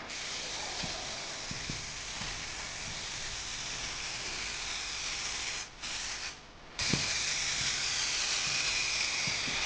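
Continuous broadband hiss of a spray gun applying clear coat on a pickup truck, steady and close, with a couple of brief pauses in the spraying.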